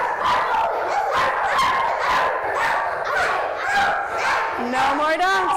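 A group of young children in a classroom bark and yap together, voices imitating a dog, in a loud, continuous chorus of overlapping woofs lasting several seconds.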